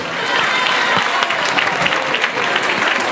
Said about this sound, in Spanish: Un aplauso para os terceiros clasificados na categoría de grupos